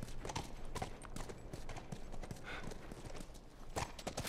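Horse hooves clip-clop at a steady walking pace in The Last of Us, faint and close, the rhythmic knocks sitting under quiet ambient game sound.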